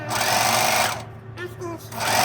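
A sewing machine stitches around the edge of a fabric cover, a close, loud mechanical whirring burst that stops briefly and then restarts.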